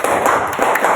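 Sharp hand claps in a classroom clapping exercise, several quick close claps spaced through a second, loud and crisp in a small room.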